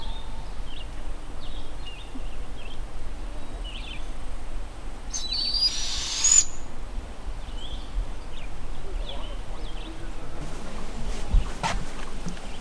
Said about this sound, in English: That's crazy, 2 little baby owls.